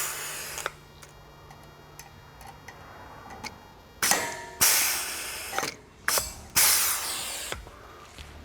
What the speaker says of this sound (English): So you'll take your 2 rivets and your badge and fire away.